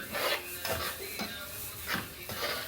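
Onions being stirred in a cooking pot, the spoon scraping and rubbing against the metal in about six repeated strokes, close and moderately loud with a faint sizzle underneath and no talking.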